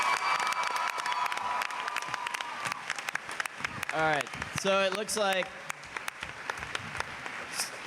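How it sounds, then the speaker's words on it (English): An audience claps for the finalists of a Fire Nation-themed cosplay costume contest. Scattered, crackling applause runs throughout, while someone speaks over it through the middle. "can we get one more round of applause for our finalists here?"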